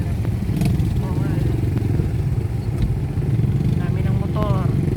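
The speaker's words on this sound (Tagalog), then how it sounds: "Dami ng motor." Motorcycle engines drone steadily on a road as several bikes pass close by, with a constant mid-pitched rumble and a few clattering knocks, while people talk over the traffic.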